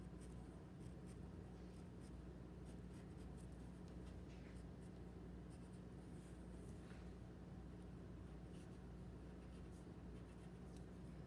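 A white pencil traces around a paper pattern on fabric for a face mask, making faint, steady scratchy scraping strokes close by under a constant low hum, with no talking.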